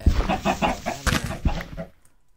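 Chickens clucking in the video game Minecraft, a series of short rhythmic clucks and squawks up close, then fading to near silence at the end.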